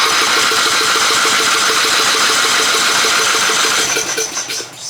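A Yard Bug riding mower's small engine churns with a rapid, rhythmic pulsing close by, loud and steady for several seconds before it falters and dies away near the end. No one speaks.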